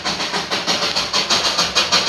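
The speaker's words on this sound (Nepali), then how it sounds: "दुई बक्स मात्रै भएको ट्रेन।" A Darjeeling toy train pulling just two coaches passes close by, with loud, regular chuffing bursts repeating several times a second.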